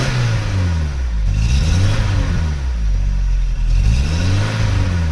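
A Vauxhall Cavalier GL engine rises and falls through repeated throttle revs, its loud, close tone sweeping up and down in smooth waves over a steady idle rumble, with no talking.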